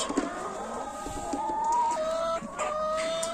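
Brahma chickens clucking nearby, with a few drawn-out tonal calls and soft murmuring clucks, no talking.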